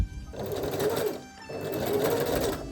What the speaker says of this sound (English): And with your hand wheel, put the needle down, and we are going to backstitch.